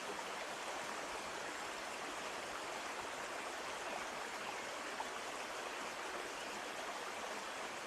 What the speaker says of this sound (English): we're going to listen to the river